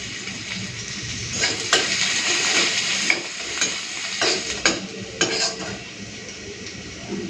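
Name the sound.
crushed garlic frying in oil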